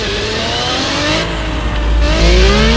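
In the Car Parking mobile game, a loud, close engine drone from an old beat-up car passing by, its pitch shifting as the revs change and swelling toward the end.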